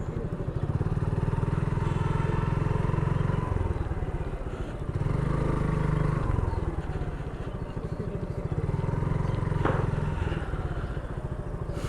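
A motorcycle engine runs steadily and loud up close, with brief dips as it slows and settles into parking at a roadside stop during a long highway ride, with light clatter.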